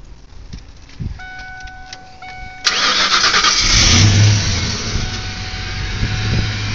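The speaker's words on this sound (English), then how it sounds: "we'll go ahead and start the engine for you" A 1992 Ford Mustang LX 5.0 V8 convertible, recently given a new fuel pump and tune-up, cranks after a couple of chimes and clicks, then catches and roars into a loud, rumbling idle that swells briefly before settling, close up with no talking.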